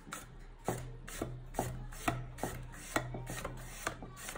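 Steady, rhythmic knife strokes thinly slicing potatoes for chips, about two per second, crisp cuts on a board close by, quiet background, no voices.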